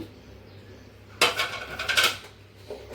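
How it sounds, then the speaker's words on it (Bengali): Chopped onion, tomato and green chili tipped from a bowl into a cooking pan, giving a sudden burst of clattering and scraping metal-on-metal sounds close by, after a quiet start, with no talk. "পেঁয়াজ তারপর টমেটো কাঁচামরিচ সব আমি একসাথে ঢেলে নিবো"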